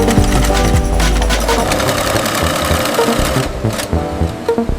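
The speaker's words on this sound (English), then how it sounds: "Colorful fabrics are cut and sewn into tiny doll clothes." A sewing machine stitching tiny doll clothes from colorful fabric in a doll factory, a dense steady mechanical whirring and rattling that runs continuously and loudly, with uneven clattering pulses near the end.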